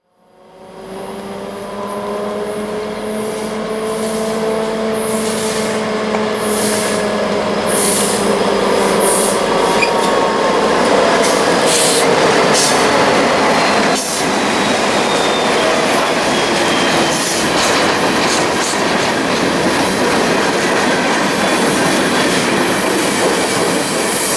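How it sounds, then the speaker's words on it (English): A BNSF local freight led by GP30-2 2292 with an EMD SD75i rebuild behind rumbles past, diesel engines droning and horn tones fading as wheels clatter and squeal, loud and close throughout. "BNSF local would be coming by with GP30-2 2292 in the lead. Right behind it would be an EMD SD75i rebuild."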